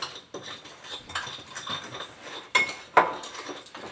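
Breakfast sausage meat being mixed in a bowl with a utensil, giving soft scraping and a few sharper clinks against the dish, close and moderately quiet with no talk.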